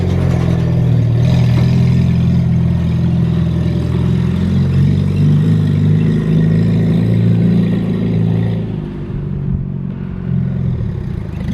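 A WWII Jeep engine revs hard and loud at close range, holding a steady roar before a brief dip near the end as it shifts into second gear and pulls again.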